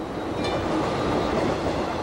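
A Tokyo subway train running, its steady loud rumble and rail noise filling the space with faint clickety-clack, no voices.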